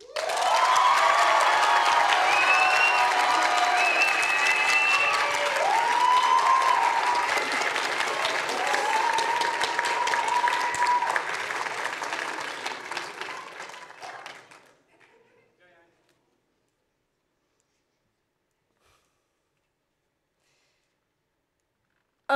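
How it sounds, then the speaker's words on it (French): Sustained loud audience applause mixed with cheering at a high school eloquence contest in Montreuil, with tonal whistles or whoops on top, tapering off around fifteen seconds into silence. "Mesdames, Messieurs, s'il vous plaît, applaudissez très fort May de Souza."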